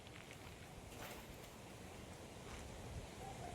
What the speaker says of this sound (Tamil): பீச்சு இது அலை சத்தமே இங்கே கேட்குதுங்க கிளியராக.